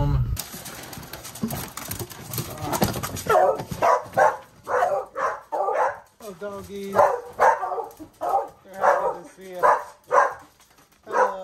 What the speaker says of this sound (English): after the dogs are done barking